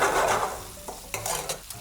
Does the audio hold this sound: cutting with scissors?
no